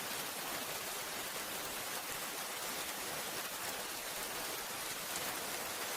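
Steady rain falls at night around a small hut, a dense, even hiss of drops that never rises or fades, with no voices.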